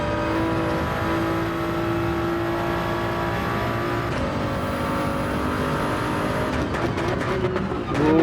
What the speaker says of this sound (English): being able to use the engine braking to slow us down